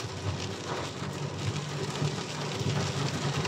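Torrential rain pours down on a mountain road to Taif, a steady, dense roar of heavy rainfall that carries on without a break.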